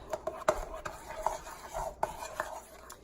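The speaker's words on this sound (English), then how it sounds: "So I'm going to fold those in here. And we'll stir that up." Banana bread batter being stirred as dry ingredients are folded in, with soft scraping and irregular clinks of a utensil against the bowl, quiet and close, with a few sharper taps along the way.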